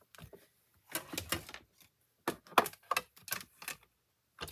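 An embossing folder is cranked through a manual embossing machine while making a Stampin' Up! stair step card, giving irregular bursts of clicking, ratcheting crunches with short pauses between them, close and fairly quiet with no talking.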